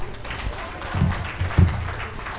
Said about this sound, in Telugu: అప్లాజ్